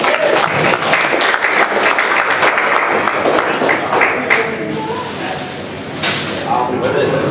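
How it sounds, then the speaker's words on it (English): An audience at a 2017 video game convention console-wars panel breaks into sustained applause, dense and close, tapering slightly before a last swell, with talking mixed in. "Let's give him a round of applause for Matt."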